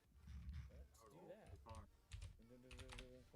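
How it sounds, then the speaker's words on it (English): Rapid keyboard typing clatters during an online chat in a tournament game session, brief clicks running under fairly loud, continuous talk from people in the room. "I'm typing in his chat."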